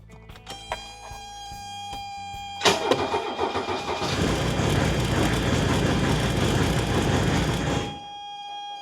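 A Mercedes diesel wagon engine idles with a steady mid-pitched clatter, swells into a louder sustained run, then cuts out abruptly after several seconds, leaving quiet; no one speaks.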